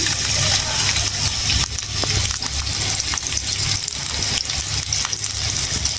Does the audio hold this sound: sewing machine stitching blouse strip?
no